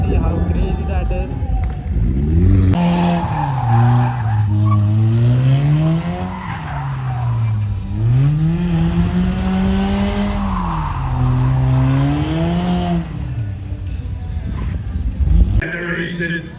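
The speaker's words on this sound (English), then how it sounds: "यहाँ पर मेरे सामने चल रहा है सब ड्रिफ्ट एक्शन." Cars drifting at a motorsport event, with long, loud tire squeals rising and falling in repeated sweeps and engine noise beneath, while someone talks throughout.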